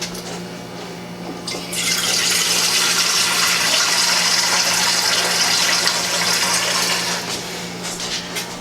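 Water gushes steadily from a tap into a pan for several seconds, loud and close, with a brief trickle before and after.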